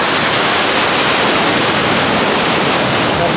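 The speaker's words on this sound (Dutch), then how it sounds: "Ja, het golft ook lekker, mensen." Sea waves breaking on a beach, a loud, continuous rushing surf close by that fills the whole stretch without pause.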